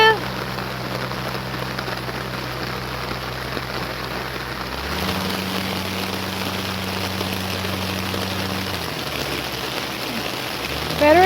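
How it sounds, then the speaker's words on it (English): Steady rain falls on outdoor surfaces on a cold day just before snow, a constant close hiss and patter running throughout, with a low steady hum underneath. "This is the last fun in the rain before the snow comes."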